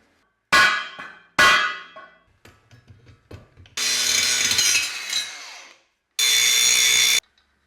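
Work on a bulged metal part of a Polaris 6x6 ATV brings two sharp metallic strikes with ringing decay, some small clinks, then two long loud grinding bursts, close up and without talk.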